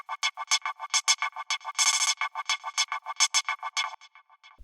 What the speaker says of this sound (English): For this hi-hat rhythm, I took an S from the vocal part and again manipulated and chopped it up to make a new rhythm